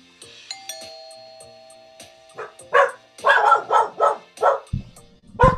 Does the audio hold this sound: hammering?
no